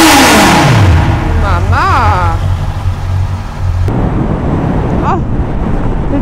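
A Honda CB650R motorcycle engine with stock exhaust revs up and falls back, rising in pitch twice, over a steady low idle with wind buffeting the microphone.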